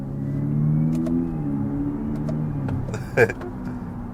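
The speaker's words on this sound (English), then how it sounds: "That's cool how I can simulate an actual engine and give you the sounds as well." Synthesized engine hum from a 2025 Kia EV6 GT electric car, rising and falling in pitch as if revving, steady and close, with a brief sharp electronic chirp near the end.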